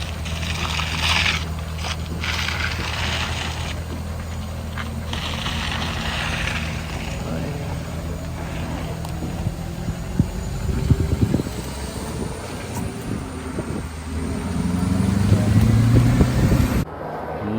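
A heavily loaded gutter installation truck labors on a steep hill, its engine droning steadily with a low rumble that swells and strains toward the end before cutting off abruptly.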